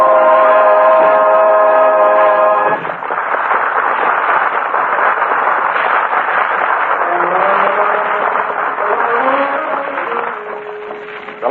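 A 1940s radio sound effect of a railroad passenger train: a held musical chord gives way to a steady, muffled rumbling chug with drawn-out whistle tones sliding over it, all narrow and lo-fi.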